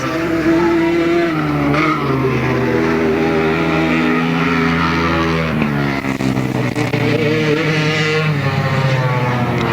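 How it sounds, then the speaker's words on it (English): Youth grasstrack motorcycles race off the bottom bend at the 1995 British finals, their engines screaming loudly and continuously as they rev and shift pitch through the turn. "as they come off that bottom bend, it is going to be another win for Tony Dart."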